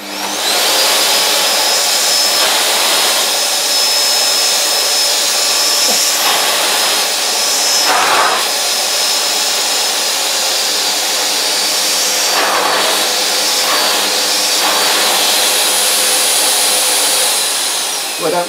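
An LG V-2620DE cylinder vacuum cleaner runs steadily and loudly, its motor whine constant as the head drags across a synthetic rug, with a few brief surges of suction noise along the way.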